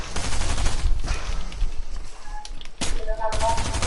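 Rapid SMG gunfire from a mythic submachine gun in Fortnite Chapter 3, loud dense bursts with a short pause midway, mixed with other game sounds and talk over the top.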